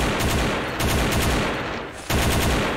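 Rapid automatic AK rifle fire in the shooter game XSHOT, loud dense bursts with a brief pause near the end before the firing resumes.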